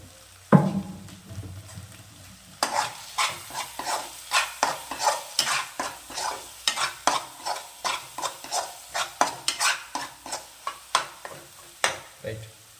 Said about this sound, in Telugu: కొద్దిసేపు దీన్ని వేగనిద్దాం.